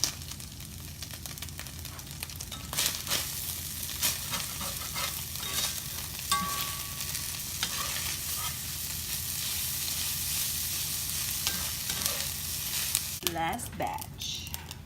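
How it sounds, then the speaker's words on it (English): Pulled pork from a whole pork butt crisps in small batches in a hot cast iron pan for carnitas, giving a steady close sizzle and frying crackle with occasional stirring scrapes throughout. "I fired up the cast iron and we're going to get them crispied up in small batches"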